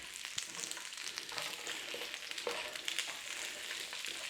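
Onions and peppers frying in oil for a sweet and sour chicken dish, a steady soft sizzle with light crackles and faint stirring, fairly quiet and with no voices.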